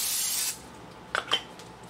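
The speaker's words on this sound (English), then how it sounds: "I use Pam because of the viscosity." Pam cooking oil sprays onto a carbon steel pan in a short, bright hiss lasting about half a second, followed by quiet and a couple of faint clicks.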